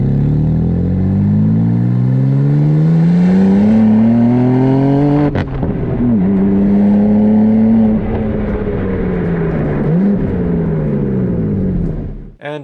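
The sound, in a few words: BMW M2 inline six engine revving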